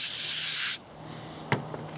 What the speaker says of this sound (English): I also spray some on here,